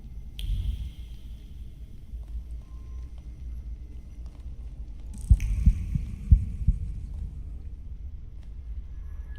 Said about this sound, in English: Hear my damn heart beating.